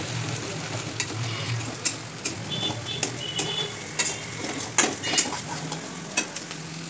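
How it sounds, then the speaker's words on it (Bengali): Spice masala for chicken curry fries in oil in a pan with a steady close sizzle. A spoon scrapes and stirs through it in repeated clinks and strokes, and no one talks. "তো এইভাবে মশলাটা কিছুক্ষণ কষিয়ে নেব।"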